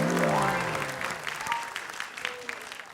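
Applause breaks out from an audience at a talk show debate, strongest at the start and thinning to scattered claps, with a voice speaking over it early on.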